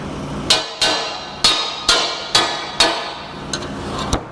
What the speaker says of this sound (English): But a bit of shock, usually I take a small hammer,